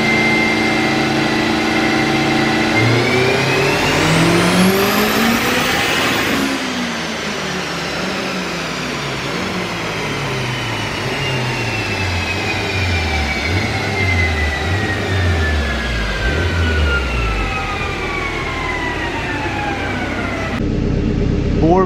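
A turbocharged Acura RSX engine on E85 fuel revs up hard and loud, then winds down with a long falling pitch, a steady powerful drone throughout.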